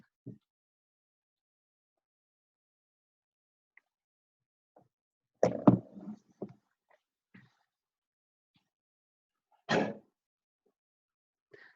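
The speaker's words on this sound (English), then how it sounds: "There's a dog behind me coughing" A dog gives a few short, rough coughs in two brief clusters, fairly faint and separated by long stretches of near silence.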